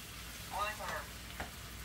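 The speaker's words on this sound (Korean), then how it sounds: "이렇게 고기를 이제 매울자님께서 지금 볶고 계십니다." Soft sizzling and crackling from meat being stir-fried in a pan, brief and faint, with a quick stir-like scrape toward the end.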